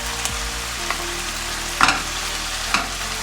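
Chicken, mushrooms and onion sizzle steadily in a frying pan, with a few light clinks and scrapes of stirring rising above the constant close hiss.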